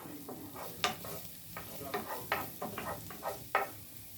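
Egg and bacon fried rice being stirred with a wooden spoon in a hot pan, a series of soft, close scrapes and taps over a quiet sizzle, irregular in rhythm, with no voices.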